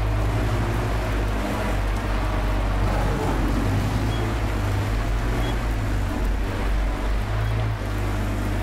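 A steady low engine rumble drones continuously from an all-terrain vehicle driving over rough ground in the video game Metro Exodus Enhanced Edition, loud and close throughout with no speech.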